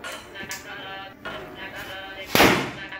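Firecrackers burst during Diwali celebrations outdoors, with a few soft pops, then one loud sharp bang near the end over faint background voices.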